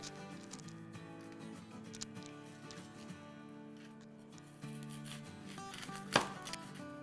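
Ingredients being chopped on a board in a home kitchen for burgers, with soft knife taps spread through the clip under a steady musical background and one sharper clatter near the end.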